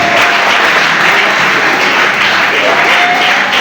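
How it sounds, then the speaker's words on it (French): A crowd at an award ceremony breaks into loud, continuous applause, a dense wash of clapping that holds steady throughout at close range. "Un tonnerre d'applaudissements pour Maman Annie, bien s'adresse."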